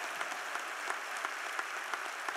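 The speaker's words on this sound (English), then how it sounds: "Give the Lord a hand clap of praise in this house today." A church congregation claps in praise during a worship service, a steady ongoing wash of applause with regular sharper accents, moderately quiet and without voices.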